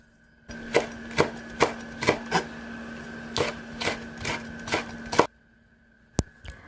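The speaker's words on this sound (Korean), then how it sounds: "쪽파 역시 잘게 쫑쫑 썰어주고 홍고추도 열십자로 칼집을 넣어 잘게 쫑쫑 썰어줍니다" A knife chops finely through onion, spring onion and red chili on a cutting board, about a dozen sharp, close taps in an irregular rhythm, then a pause and one last tap.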